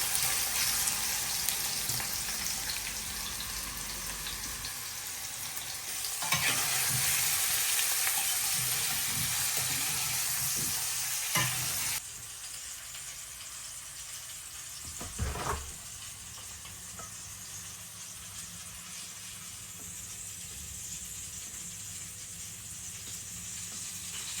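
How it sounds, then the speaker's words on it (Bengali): Potato and taro pieces fry in a pan with a continuous close sizzle. Occasional soft stirring knocks sit on top of the sizzle, which eases partway through, and no voices are heard. "এই আলু আর কচুটা দিয়ে ভালোভাবে একটু ভাজা ভাজা করে নিব"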